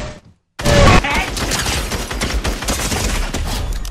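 Rapid gunfire rattles out in a shooter video game, a dense loud burst of shots after a brief silence, continuing in bursts to the end.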